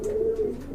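A pigeon gives a soft, low, drawn-out coo nearby. It is one continuous call that fades out toward the end, with no voices.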